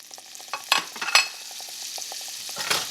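Butter sizzling in a pan while cooking mushrooms for a green bean casserole, a steady crackling hiss broken by a few sharper scraping and clinking accents from a utensil, close, with no talking.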